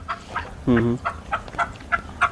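Free-range desi chickens on a farm cluck and cackle nearby in short repeated bursts, with one longer, louder squawk early on.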